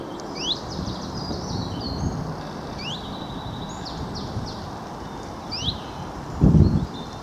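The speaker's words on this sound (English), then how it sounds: "There is a garden warbler up there somewhere." A garden warbler sings from trees along a countryside walking path: short, rapid bursts of high warbling notes repeated at a distance, over soft wind and ambient rustle, with a brief nearby thump near the end.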